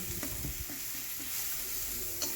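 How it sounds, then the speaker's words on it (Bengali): Spice masala for an egg dish frying in a pan with a little water, a close, dense hiss and sizzle with a few soft stirring scrapes in a brief burst, no one talking. "এরপর একটু জল দিয়ে মশলাটাকে ভালো করে কষিয়ে নেব"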